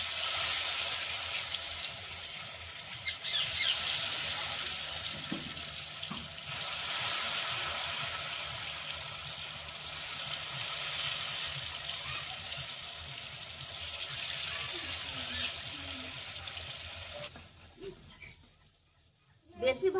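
Chicken momos sizzle in hot oil in a wok with a steady, loud, broadband crackle that holds for most of the stretch before dropping away near the end, with a voice briefly over it.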